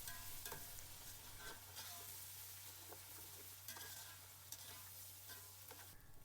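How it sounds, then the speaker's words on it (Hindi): Ginger garlic paste fries in hot oil for chana pulao, giving a steady, quiet sizzle broken by scraping spoon strokes against the pan, with a low background hum throughout. "अब हम इसमें शामिल कर देंगे 2 चम्मच अदरक और लहसुन का पेस्ट। इसको हम अच्छी तरह से फ्राई करेंगे।"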